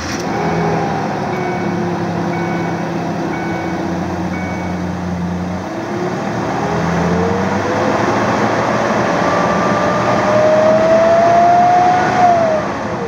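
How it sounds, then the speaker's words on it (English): A car engine runs steadily with a constant loud fan roar from a worn fan clutch that fails to disengage, then the pitch climbs as the engine revs up and drops back near the end. "so you could hear that the fan isn't disengaging because the clutch is worn out"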